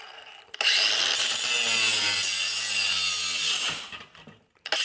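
A cutoff tool grinds through metal during a rear axle swap fitting a Ford 8.8 under an S10 truck, one loud sustained high whine lasting about three seconds before cutting out, up close with no talking.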